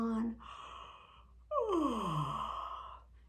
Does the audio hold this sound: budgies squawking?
no